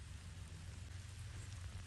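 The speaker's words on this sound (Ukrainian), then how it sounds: "І дощик почався." Steady light rain patters on a surface, a soft continuous hiss with no voices.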